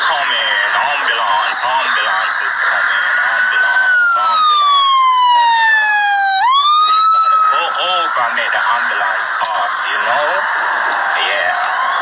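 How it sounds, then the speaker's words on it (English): An approaching ambulance siren gives one clear, falling wail partway through, heard under constant talking. "Ambulance is coming."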